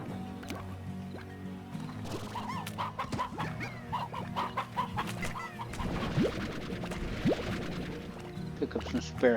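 Hens cluck in the video game Slime Rancher, repeated short clucks and squishy game effects scattered over a busy backdrop, with a voice talking at times.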